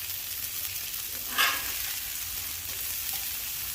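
Burger patties sizzling on a flat top griddle set to about three-quarter heat, a steady close hiss with one brief louder flare in the middle and no speech.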